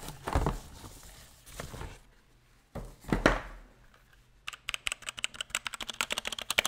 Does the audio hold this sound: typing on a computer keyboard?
yes